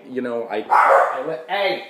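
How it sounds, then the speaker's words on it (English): Several dogs bark and yip excitedly at a door when visitors arrive, a loud overlapping burst of barks with a person's short shout mixed in. "it sounds like this stampede of wild hounds"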